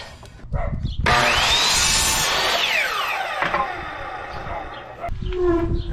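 A power saw rips through a wooden board being cut to length for a box truck camper wall, a loud whining cut of several seconds that winds down, with brief low talk before and after.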